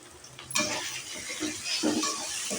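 Raw banana poriyal with salt being stirred in a pan: soft scraping and shuffling with a light sizzle, close and fairly quiet, picking up after a brief pause.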